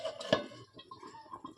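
A lid goes onto a pot of chicken rezala with one sharp metallic clank, followed by a few soft, faint clinks and rattles as it settles.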